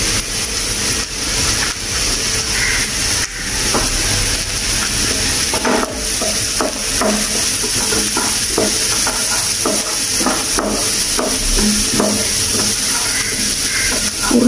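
Small-cut chopped carrots frying in a hot pan, giving a loud, continuous close sizzle with rhythmic stirring scrapes and clatters through most of the stretch, no voices.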